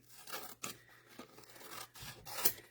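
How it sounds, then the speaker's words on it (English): Paper being torn and cut with scissors for a Chinoiserie junk journal signature: several rough ripping and snipping bursts at uneven intervals, close and fairly loud, with no talking. "So we're gonna have to tear it up, cut it down, make it fit."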